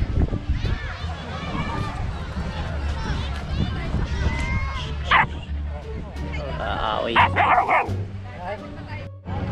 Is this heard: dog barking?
yes